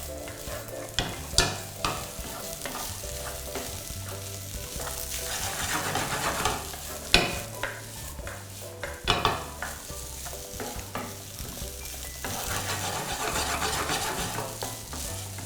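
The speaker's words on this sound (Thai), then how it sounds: "แล้วเราก็คั่วเขา นะ ถ้าเป็นกระทะจีนก็กระดกเข้าไป" Shrimp stir-fried in a wok for curry powder fried rice, with a steady sizzle and repeated scraping and tossing strokes of the spatula, close and loud, with no talking.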